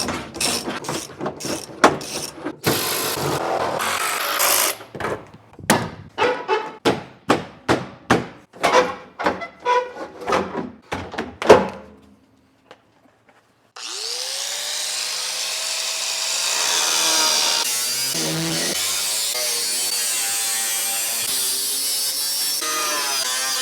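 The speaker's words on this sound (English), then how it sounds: "then I'll just start cutting and see where I end up" Cutting a rusty car body panel on a Brick: a rapid series of sharp, loud rhythmic cuts and clanks for about twelve seconds, a brief pause, then a steady loud grinding-like whine that continues to the end.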